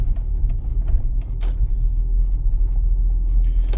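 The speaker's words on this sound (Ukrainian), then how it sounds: "потихесенько виїжджаємо, займаючи крайнє праве положення на дорозі" A car slowly pulls out onto the road, a steady low engine and road rumble close by, with a few faint clicks and knocks over it.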